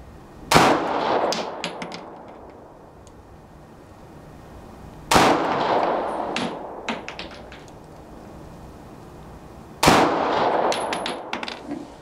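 Three loud, sharp pistol shots from a Smith & Wesson 9mm Equalizer at an outdoor range, spaced about four and a half seconds apart, each followed by a decaying echo and faint clatter.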